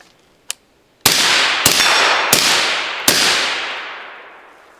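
Four loud, sharp gunshots from a rifle fitted with a Dead Air Sandman S suppressor, each a hard crack with a long ringing decay, fired about 0.7 seconds apart after a brief click.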